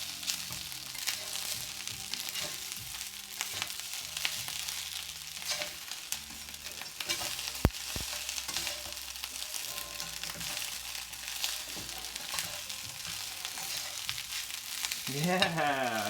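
Fried rice with scrambled eggs sizzles steadily in a hot pan, a continuous close crackle and hiss broken by scraping stirs and occasional clinks of the utensil, with no one speaking.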